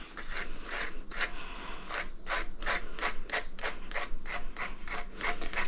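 Repeated brisk brush strokes through a dog's ear fur, a rhythmic scratchy rasp about twice a second, close and steady with no talking.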